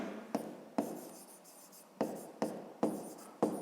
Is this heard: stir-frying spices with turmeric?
no